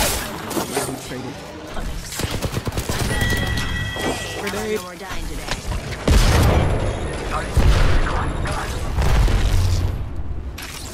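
In the Apex Legends video game, a grenade goes off with deep booms amid bursts of gunfire and busy battle noise, while voices talk over the action.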